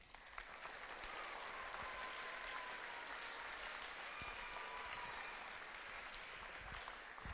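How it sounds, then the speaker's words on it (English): Sustained applause from a concert audience at a middle school band concert, steady and fairly distant, filling the hall without any talk over it. "If we could please give a round of applause."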